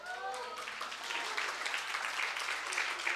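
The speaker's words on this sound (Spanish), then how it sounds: "Denle un fuerte aplauso." Church congregation breaks into applause for a young believer, clapping swelling after a brief voice at the start and continuing steadily.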